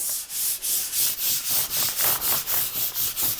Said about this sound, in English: just kind of use my hand and smooth it on there